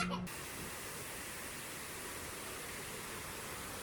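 A waterfall at a zoo exhibit in San Diego pours with a steady, broad hiss and rush that holds evenly throughout, close and fairly loud, after a brief opening thump.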